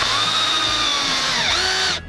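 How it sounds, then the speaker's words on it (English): A power drill bores a hole through stacked wooden strips for a cat scratcher, a loud, steady high whine close by that dips in pitch under load, then cuts off abruptly. "And I'm going to drill my hole all the way through all 4 pieces."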